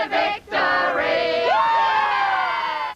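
Excited football fans in Melbourne cheer and shout together, a loud sustained crowd roar with rising whoops, broken by a brief dip near the start and ending abruptly after three seconds.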